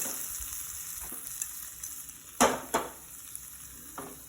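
Two dried red chillies with curry leaves frying in tempering oil for ginger curry, a low steady sizzle with a few sharp spoon scrapes and stirs, close by and without talk.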